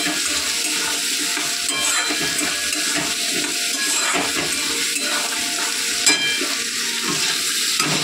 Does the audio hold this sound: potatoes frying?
yes